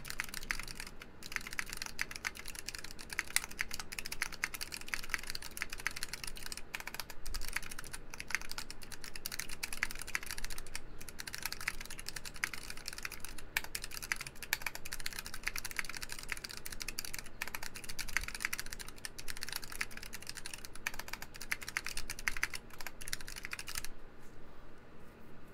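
Steady, rapid clacking of a mechanical keyboard during an online typing test, keystrokes loud and close in continuous bursts with brief pauses, no voices.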